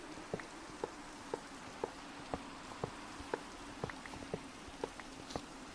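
Rain in the survival video game DeceasedCraft, a soft, quiet patter with scattered light drops tapping at an irregular rhythm over a low steady hiss, no speech.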